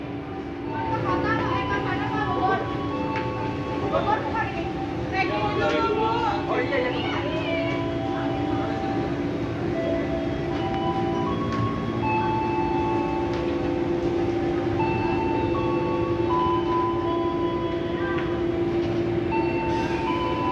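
A commuter train pulls away from Karet station toward Cikarang via Manggarai, its steady rumble and squealing, tonal wheel and motor whine sustained and loud while a voice speaks over it.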